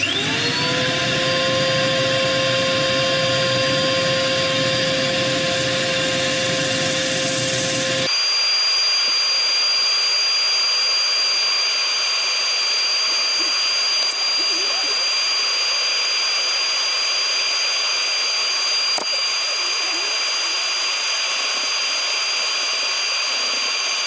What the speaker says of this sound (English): I'll let you watch a bit of the sanding, but I'll bring you back when it's all done.